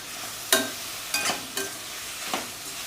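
Two medium chopped tomatoes fry in a pan for spicy semiya biryani while a spoon stirs them, making four distinct scraping strokes over a faint, low sizzle, close by with no talking.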